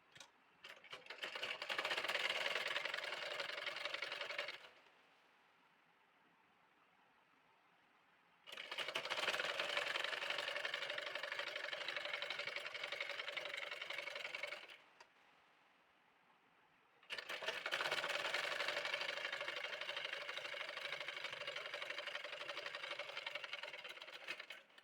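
Electric sewing machine stitching the seam of a baby frill frock runs in three long, even bursts of rapid whirring, each several seconds long and separated by short quiet pauses, with no talking.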